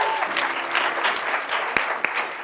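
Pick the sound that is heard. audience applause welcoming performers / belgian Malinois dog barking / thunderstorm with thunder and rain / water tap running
audience applause welcoming performers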